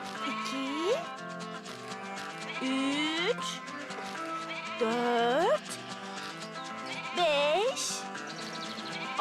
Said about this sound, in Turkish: Bu sesi biliyor olman lazım Kuka. evet biliyorum. Bu kuzu.